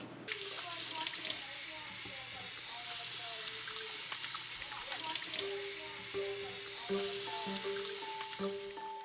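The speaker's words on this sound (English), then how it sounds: "So I'm going to go wash my hands." Hands washed under a running kitchen tap before preparing salad dressings, a steady close rush of water lasting throughout, with faint voices and tonal background sounds underneath.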